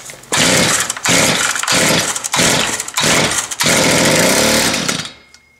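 A Stihl FS55 string trimmer engine runs loudly and close by, its revs pulsing up and down in a series of bursts as the throttle is held and eased, then cutting off abruptly near the end.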